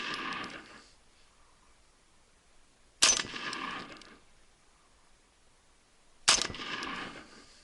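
Three sharp 5.56mm rifle shots of 55 grain rounds fired through brush in a deflection test, evenly spaced about three seconds apart, each a loud crack trailing into a brief echoing decay, with quiet outdoor pauses between.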